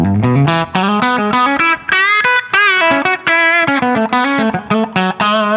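Clean electric guitar, an EVH Wolfgang Standard, playing a lively run of picked notes and chords, bright and shimmering with a phasey, chorus-like effect, loud and close with no talk.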